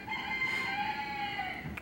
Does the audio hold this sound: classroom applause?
no